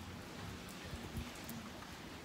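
Steady, even patter of rain falling, a continuous broadband hiss with a few soft low thumps, no voices.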